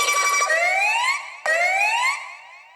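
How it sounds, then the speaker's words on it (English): Kricketune's Pokémon cry reworked as a siren in a tech house drop, with two rising, whistling wails in a row, the second starting sharply and fading out. "I took the second half of KrickeTune's cry and used it as a siren that would play periodically throughout the drop."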